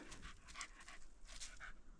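A tired dog pants rapidly and close by after a spring mushroom-foraging walk in the woods, quick breathy puffs in steady rhythm with no talking.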